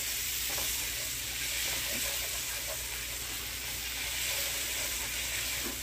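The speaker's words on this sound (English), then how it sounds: "I'm going to take my whisk and I'm going to move that around in the pan." A flour roux sizzles softly in a pan as a whisk moves it around, a faint, even hiss with a few light scrapes and no talking.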